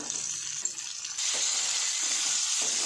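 Garlic, dried chillies and tamarind frying in hot oil for a chilli-tamarind chutney, a close, continuous crackling sizzle that jumps louder midway as more garlic goes in, with faint clinks under it.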